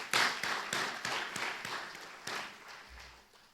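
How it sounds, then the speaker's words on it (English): Applause at an exhibition event, sparse and fairly quiet clapping from a small gathering, individual claps audible in an uneven rhythm that thins out toward the end. "So let's give them all a round of applause."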